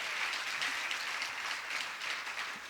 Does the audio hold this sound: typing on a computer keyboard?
no